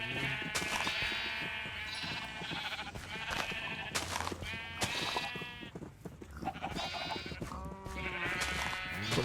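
Sheep in Minecraft bleat over and over, wavering overlapping bleats that sound loud and continuous, as if several animals are crowded together close by.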